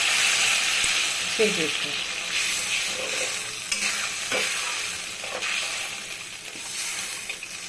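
Hot water poured into fried spices in a pan while making pabda fish curry, a continuous sizzle and bubbling with stirring clinks, and a voice speaking briefly over it.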